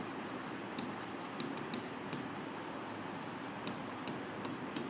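Pen or chalk writes on a board in a quiet room, with faint, brief scratchy strokes scattered over a steady background hiss.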